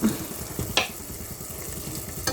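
Sarciado sauce simmers and sizzles steadily in a pan as fish is added, with a couple of brief clinks or splashes over the bubbling.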